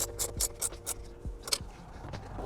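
A ratcheting box wrench snugs up mount bolts for a Starlink mount inside a Bronco, making a quick series of close, crisp ratchet clicks followed by a couple of slower clicks and scrapes, with no talking.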